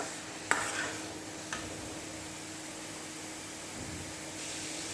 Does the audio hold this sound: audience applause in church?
no